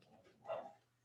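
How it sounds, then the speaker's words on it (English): A single faint dog bark or yip, brief and distant, from one of two pet dogs, heard alone in a quiet room. "those are my dogs, Ruby and Pearl."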